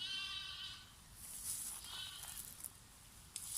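Sheep from a flock of about thirty bleat in the distance, a few drawn-out wavering calls over faint outdoor background noise.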